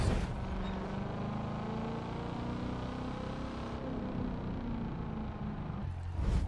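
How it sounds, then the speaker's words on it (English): A 2009 Chevrolet Corvette ZR1 in the racing game The Crew 2 idles at low RPM, a deep, steady buzzing engine drone that holds constant and close before briefly dropping off near the end. "now let's enjoy the sound of the lawnmower the car makes right now at the low RPMs"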